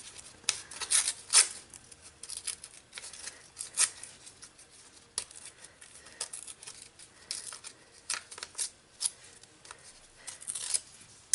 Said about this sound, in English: I'm gonna rip the card first.